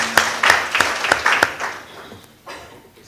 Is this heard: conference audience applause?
yes